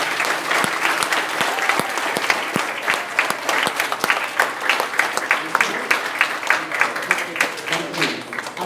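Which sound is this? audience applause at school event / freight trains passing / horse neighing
audience applause at school event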